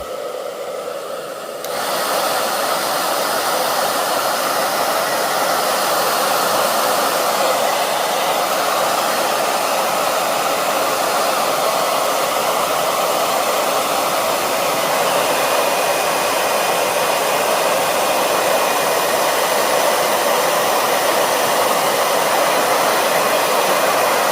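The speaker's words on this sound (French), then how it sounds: "je suis allé chercher un sèche-cheveux" A hair dryer switches on and runs steadily, heating a metal detector, a loud continuous whooshing hum that holds without change for a long stretch.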